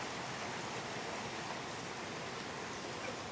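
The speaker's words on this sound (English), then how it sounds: "Oh, Ruby was going to brave the rain." Steady outdoor rain on a creek property: an even, soft hiss of falling drops with no breaks and no voices.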